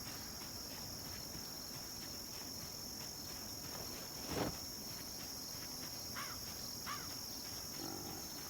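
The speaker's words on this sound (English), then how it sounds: "Funny how abrupt the changes of like crickets to city you can hear when I leave" Steady crickets chirping in the night ambience of the zombie survival game Project Zomboid, a constant high drone with a few brief louder rustles and chirps over it.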